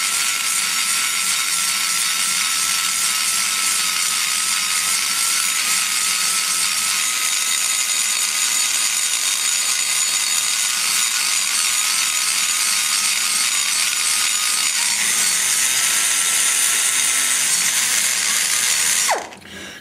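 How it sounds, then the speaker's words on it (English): Continuous harsh, high grinding of a valve seat cutter working an aluminum Edelbrock E cylinder head, steady and close for nearly twenty seconds before stopping abruptly at the end. "I'm actually letting the cutter float and just bounce because you don't want too much power"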